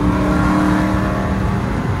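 A Chrysler 300C with a HEMI V8 and a loud aftermarket exhaust, a heavy, continuous deep rumble held at high volume close by, with no pause.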